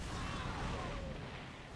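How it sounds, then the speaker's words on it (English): Prism cannons fire in OpenRA, heard as a dense rumbling barrage of booms with a faint high whine, under a continuous wash of battle noise. "I am hearing prism cannons on the sides"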